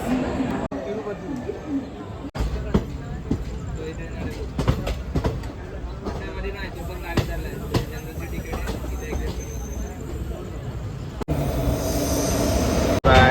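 A passenger train rolls on through the night, its carriage rumbling steadily up close with wheel clatter and occasional squeals, while a voice talks intermittently.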